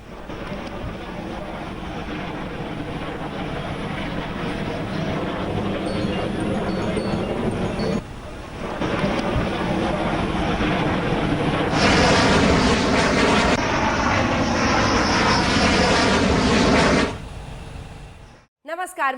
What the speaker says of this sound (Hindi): जिस वीडियो में बिल्कुल करीब से राफेल दिखाई दे रहा है उसमें एक विमान आपको देखिए, इसकी गर्जना सुनते ही बनती है